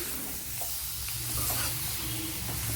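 Chicken coated in masala is turned over in a hot pan, giving a soft continuous sizzle with faint scraping of the stirring utensil, quiet and close.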